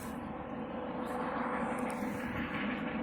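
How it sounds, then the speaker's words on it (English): Police helicopter flying overhead outdoors, a faint, steady distant engine and rotor drone that holds without a break and has no talk over it. "I think they're actually can hear that helicopter."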